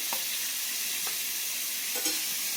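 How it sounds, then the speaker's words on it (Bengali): A fish head fries in a pan with a dense, even hiss of hot oil that stays constant throughout, broken by a few faint stirring taps, close up and with no voices. "আর এখানে হচ্ছে মাছের মুড়ো ভাজা হচ্ছে"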